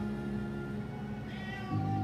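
A distressed house cat cries in drawn-out meows, set off by indoor fire alarm testing, close and fairly loud over a steady low household hum that thickens near the end.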